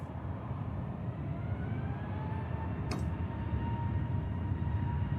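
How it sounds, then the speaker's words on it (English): A Jet2 Airbus A321neo airliner departing Manchester Airport gives a steady, broad engine roar that holds through the whole stretch, with a faint whine on top and one brief click midway, and no talk over it. "Jet 2 A321 Neo on its way out to Lanzarote."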